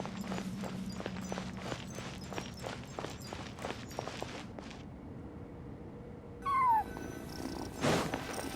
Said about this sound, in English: I followed the cat's cries